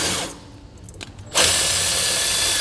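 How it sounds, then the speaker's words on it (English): A power drill driving a stud-cleaning tool on wheel studs whirs briefly, drops out, then spins up again loudly and runs steadily, with a metallic grinding edge. "using the actions of the drill to go forward and to go backwards"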